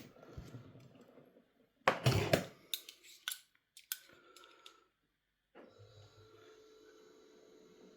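A powered trimmer cuts brass cartridge cases, giving bursts of sharp metallic scraping and clicks between quiet gaps, followed by a low steady motor hum, close and moderately quiet.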